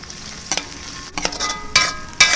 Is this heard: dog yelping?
no